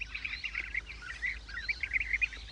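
Several European bee-eaters call in the open, giving a busy overlapping stream of soft, rolling chirps at moderate distance, continuous and unaccompanied by voices.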